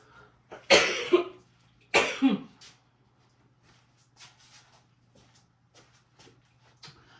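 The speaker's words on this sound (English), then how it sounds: "I still have a little cough" Two hoarse, raspy coughs from a person still recovering from illness come close together near the start, followed by quieter shuffling and small sounds in a quiet kitchen.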